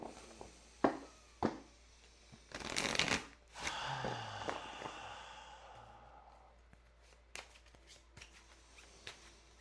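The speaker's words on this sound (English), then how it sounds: "let's shuffle for you and see where we're at." Tarot cards are shuffled by hand in crisp, papery bursts. A faint breath and quiet rustles fall between the riffles, which are close and soft.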